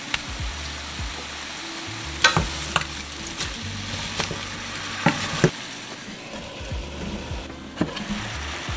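Chuck roast ingredients with a little garlic cook down in a pot, giving a steady sizzle under repeated scraping and knocking of a spoon against the pot.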